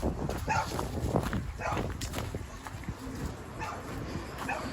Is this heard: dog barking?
yes